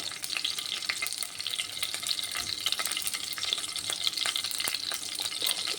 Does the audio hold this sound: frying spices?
yes